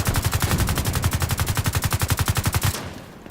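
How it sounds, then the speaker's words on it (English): Automatic gunfire from a weapon in Tom Clancy's The Division 2 keeps firing on its own, a fast, steady stream of loud, evenly spaced shots for nearly three seconds before cutting off abruptly. "I have fully released the controller, and the gun continues to fire"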